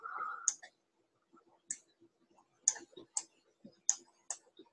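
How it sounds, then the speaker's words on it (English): Computer mouse clicking during video editing, a series of sharp, light clicks at irregular intervals, close and alone in a quiet room. "I'm also going to be pretty quick about clicking on split"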